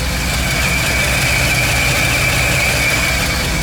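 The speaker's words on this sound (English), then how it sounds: "It's running at 700 RPMs with" A car engine fitted with an HEI distributor idles steadily at about 700 RPM with the air conditioning running, producing a constant, loud, close-up drone with no pauses and no voices.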